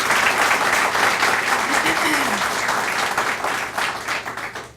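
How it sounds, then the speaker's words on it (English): Applause for the event organizers at a talk on gratitude and mindfulness, a full, loud burst of clapping from the crowd that stays strong and then begins to taper off, with some voices mixed in. "Can we have a round of applause for them as well?"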